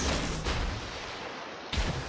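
Torpedoes launch from a destroyer in World of Warships, the Mogador, as a dense broadband burst at the start and a second sharp burst near the end, over steady loud battle rumble.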